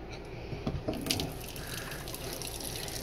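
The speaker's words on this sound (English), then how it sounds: "I'm gonna run a little bit more water, keep an eye on it for leaks first." Water running steadily from a faucet into an acrylic sink in a remodeled fifth-wheel RV, a continuous close splashing gush.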